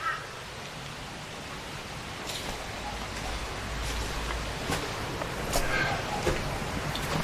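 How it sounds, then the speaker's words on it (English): Rain falls steadily outside in a continuous soft hiss, with occasional louder drips and patters scattered through it. "But yeah, a bit of rain going on."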